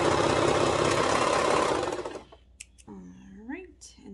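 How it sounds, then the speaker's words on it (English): A cover stitch sewing machine hemming the bottom of a dolman tee runs with a loud, steady whirr for about two seconds, then stops, and a voice talks afterward. "with the cover stitch, just hemming the bottom with the cover stitch"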